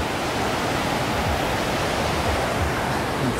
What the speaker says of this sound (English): Your geyser, I'm not too sure what it's called. It's blowing up water, which is pretty cool.